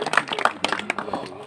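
A crowd at a victory thank-you rally claps to welcome a newly elected MLA, with a scattered burst of hand claps mixed with voices in a short, moderately loud moment.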